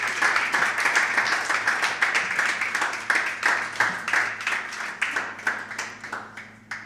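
An audience at a Saranac Lake folk hootenanny claps steadily for several seconds, a dense, moderately close patter of many hands that gradually thins and fades.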